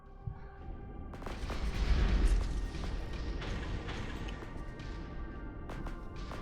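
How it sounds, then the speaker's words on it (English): Enemy raider ship in Astrox Imperium firing missiles, a string of dull booming launches and blasts rolling over a low rumbling space-combat bed, moderately distant. "I don't know what he's shooting those missiles at."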